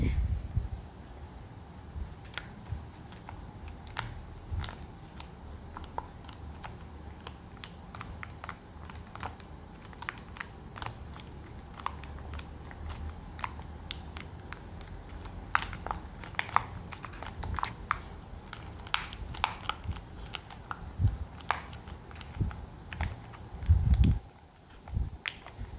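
Paper origami pop-it toy pressed by hand for ASMR, many faint, close, irregular crisp clicks and paper crinkles over a quiet background, no talk.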